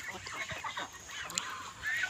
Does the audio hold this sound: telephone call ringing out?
no